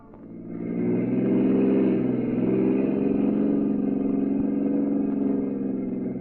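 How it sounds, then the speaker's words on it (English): A car engine runs steadily as the car drives, a radio drama sound effect from a 1950s detective serial, with a smooth, loud hum held throughout and no talk. "I'll drive down this road, Mrs. Abbott."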